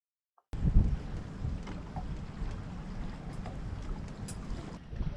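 A sailboat gets under way leaving Grenada, giving a steady, soft rush of wind and water along the hull after a brief silence, with occasional faint knocks and creaks; no talking.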